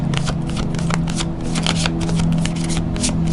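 A deck of tarot cards shuffled by hand up close, a steady dense riffle of card edges running throughout with no voices.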